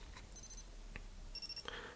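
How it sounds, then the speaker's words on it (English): A Citizen Panda Meca-Quartz chronograph, calibre 2100, sounds its two-tone alarm: two short bursts of rapid high beeps, close and fairly loud, with a faint click between them and quiet room tone around. "So it has a sort of a two-tone alarm, and that will go off for 20 seconds."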